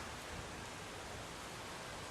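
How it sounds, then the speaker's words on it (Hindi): Heavy rain falling outside, a steady even hiss of downpour, faint and constant with no voices. "बारिश हो रही है।"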